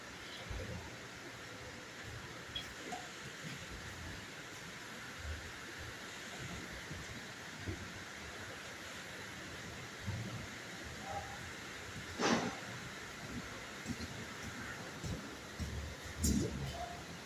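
Steady rain falls on a leaky roof as a constant broadband hiss, with a few sharper knocks and brief bursts on top and no speech.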